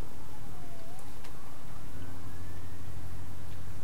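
Police car and ambulance sirens wail in the video game A Way Out, rising and falling tones over a dense rumble of traffic and engines, sounding from some distance with no talk over them.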